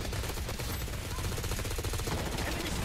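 An M4 rifle fires in Blood Strike, a dense, continuous rapid-fire stream of loud close shots running without pause from start to end.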